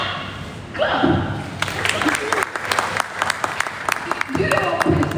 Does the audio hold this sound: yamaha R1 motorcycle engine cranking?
no